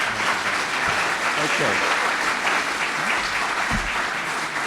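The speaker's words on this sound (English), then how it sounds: "that's a round of applause for both candidates" Sustained applause from a crowd at a 2019 mayoral and county legislator debate fills the space, steady and loud, with a brief spoken word partway through.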